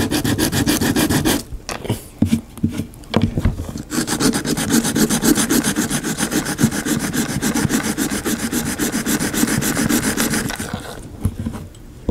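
Bondo filler is sanded on an arcade cabinet: harsh, continuous rhythmic scraping strokes, loud and close, with brief pauses near the start.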